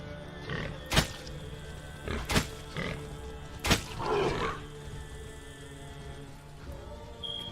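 Several loud, harsh pig grunts and squeals from the video game Rend come in short bursts about a second apart, then fade into a quieter background hum.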